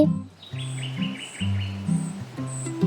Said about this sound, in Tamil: ஒரு வழியா நிறைய குச்சிங்களை மோட்டு குருவி எடுத்துட்டு வந்துச்ச